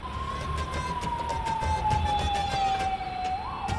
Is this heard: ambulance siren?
yes